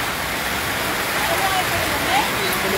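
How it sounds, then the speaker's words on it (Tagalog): Rain falls steadily on a flooded street market, a dense, loud hiss that fills the whole moment, with people talking nearby. "Umuulan na."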